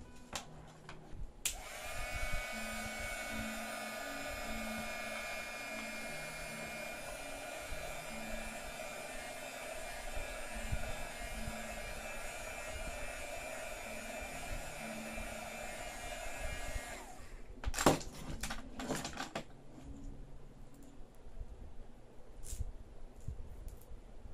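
Heat blower softening the screen glue on a Samsung Galaxy Tab 4, a steady whooshing whine running for about sixteen seconds before cutting off, followed by faint clicks and handling.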